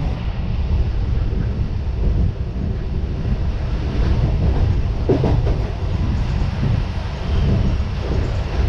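A MEMU local train runs on the Konkan Railway with a steady, loud rumble and rolling rush, heavy wind buffeting over it and no voices throughout.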